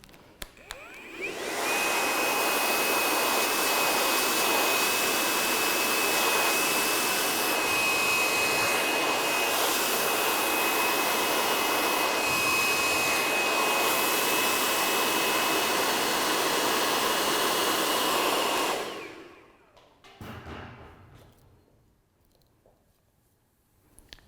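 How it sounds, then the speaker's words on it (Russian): A hair dryer runs on hot air for about eighteen seconds while hair is blow-dried with a round brush, a steady loud whooshing roar with a faint high whine, then cuts off, leaving a quiet room. "И теперь проделаем все то же самое, но уже с феном, включая горячий воздух фена."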